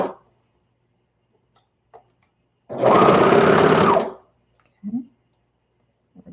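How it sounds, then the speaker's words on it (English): Serger stitching a seam on baby bummies in one loud continuous burst of about a second and a half, framed by quiet pauses with faint clicks and handling noises. "you're going to want to make sure this tail is pulled out and it's sticking out so that the serger will cut it off"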